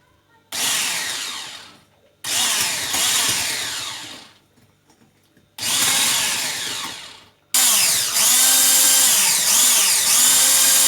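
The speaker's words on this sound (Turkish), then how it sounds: "Tekrardan mikserle güzelce çırpacağım." A loud electric hand mixer whirs in four bursts while beating brownie batter with chocolate sauce, switched on and off with short pauses, the last run continuing steadily.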